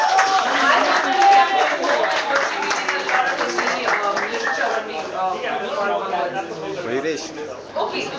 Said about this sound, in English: give the Hindi guys a big round of